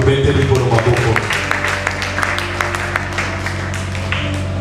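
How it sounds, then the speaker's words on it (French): A church congregation claps for the Lord in a steady run of distinct claps at moderate volume, with a voice speaking at the start. "On applaudit pour le Seigneur."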